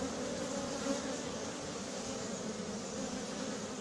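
Honey bee swarm being hived, a dense, steady buzzing drone of many bees that fills the space evenly, moderately loud and continuous with no pauses or talking.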